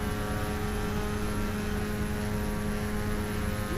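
A Fokker F27 Friendship turboprop airliner in flight in Flight Simulator X, a steady, loud propeller-engine drone with a constant whine, unchanging and without talk.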